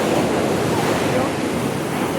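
Steady rush of surf on the shore at Ajman Beach, UAE, a dense, even wash of waves with wind noise against the microphone throughout.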